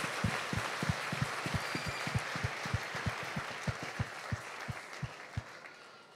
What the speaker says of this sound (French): We can clap for the Lord for his grace.